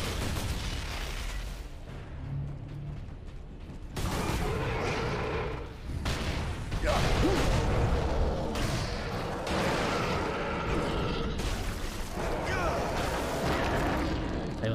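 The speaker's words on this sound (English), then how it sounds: "Yeah, I can throw grenades too." Grenade blasts and heavy combat booms from the Space Marine video game, loud and continuous, with a dense wash of gunfire and explosions and no clear pauses.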